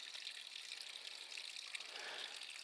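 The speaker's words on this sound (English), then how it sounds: "there's supposed to be a pipe spring" Water trickling from a pipe spring beside a trail on the Appalachian Trail, a quiet, steady splashing hiss with no voices.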